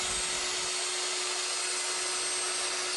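Zenbot 1624 CNC router cutting frame plates for a rubber band gun, a steady high-pitched whine with a constant tone, continuous and fairly faint throughout.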